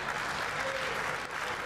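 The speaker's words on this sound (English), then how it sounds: "a bigger round of applause here for the bronze medal" Applause from spectators fills a women's three-position European shooting championship hall in Bologna after the bronze medal match, a steady dense clapping heard close and loud throughout with no talk.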